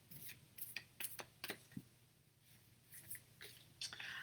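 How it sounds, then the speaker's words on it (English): A deck of cards is shuffled by hand nearby, with quiet irregular bursts of riffling and crisp card snaps over a soft background. "I'm going to shuffle the cards till my heart tells me to stop."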